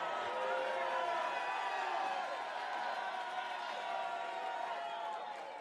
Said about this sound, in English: The crowd here in the Big D definitely behind El Dragon.